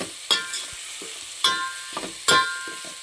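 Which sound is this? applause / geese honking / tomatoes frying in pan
tomatoes frying in pan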